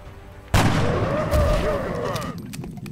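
A single rifle headshot in the XCOM: Enemy Unknown video game cracks out sharply and loudly after a brief quiet lead-in, then rolls into a long, booming decay that fades over about two seconds.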